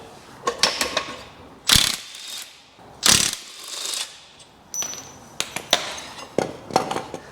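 Ratchet wrench clicking while dismantling the differential of a Holden GQ ute, in bursts of rapid pawl ratcheting with short pauses and a few sharp metallic clinks between them, close and clear with no talking.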